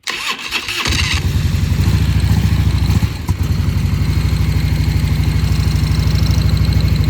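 A Harley-Davidson motorcycle engine in neutral fires up close by, then settles into a loud, steady, lumpy idle that keeps thumping without a break.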